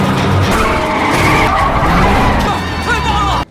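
A race car skids loudly with squealing tires during a street race, a continuous harsh screech and engine roar filling the whole moment close up, with voices faintly mixed in.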